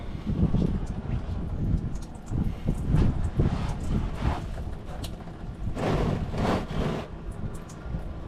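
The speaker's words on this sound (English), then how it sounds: "Damn wind is about to screw me." Gusty outdoor wind buffets the microphone in uneven, rumbling surges that rise and fall, loud and close, with a stronger burst near the end.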